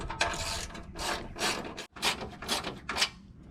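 A hand ratchet tightening 10mm bolts on a Jeep Wrangler fender liner gives close, loud rasping clicks in quick rhythmic strokes, about seven or eight pulls with a brief pause midway.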